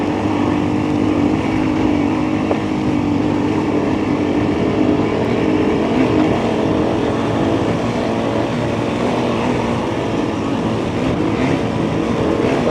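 Motorcycle engine droning steadily and loudly throughout while an adventure or enduro bike such as a CFMOTO 450MT, Honda CRF300L or KTM 690R/500 EXC-F rides an off-road trail in Bosnia, with rumble from the terrain and no speech.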